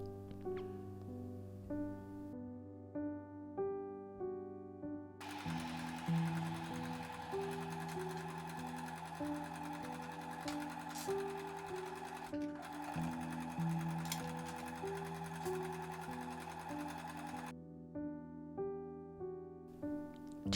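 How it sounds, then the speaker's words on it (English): A sewing machine stitches the crown pieces of a reversible sun hat, running in long steady bursts of rapid mechanical whirring separated by short pauses, with a faint music bed underneath. "To complete the crown, sew the top of the sewn pieces right sides together."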